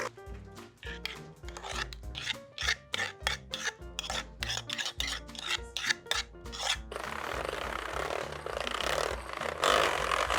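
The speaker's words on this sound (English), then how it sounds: "Just mix it constantly until you get a nice thick foam." Butter being whisked into custard for Eszterhazy cake cream, a fast rhythmic mechanical whirring and rasping that pulses in short strokes, then settles into a continuous steady buzz, with no talking.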